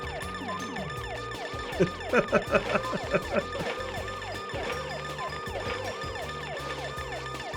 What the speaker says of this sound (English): Gotta have the police sirens going.